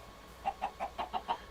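Chickens in the video game Minecraft give six quick, evenly spaced clucks in a short burst, fairly faint and alone.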